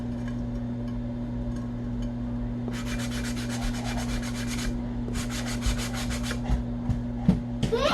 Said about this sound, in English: we are gonna just sand away